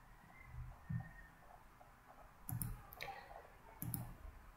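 Several soft mouse clicks while saving settings on a WordPress site, three separate near clicks spaced over a few seconds against a quiet room.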